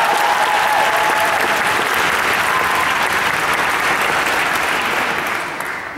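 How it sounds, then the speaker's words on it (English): Audience applause for a university summer music camp orchestra and choir at the University of Maryland, a dense, steady clapping that fills the room for about six seconds, then tapers slightly near the end. "give them a round of applause"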